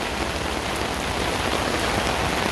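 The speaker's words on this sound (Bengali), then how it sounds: "অন করে দেখালাম বৃষ্টি হচ্ছে" Steady rain falls on a wet day in Mawna, Gazipur, a dense, even hiss of drops pattering close by with no voices.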